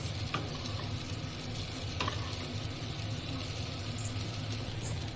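Cauliflower pieces fry in a pan for a home-style vegetarian cauliflower curry, giving a steady, even sizzle with a couple of faint clicks of stirring, close and continuous with no talk.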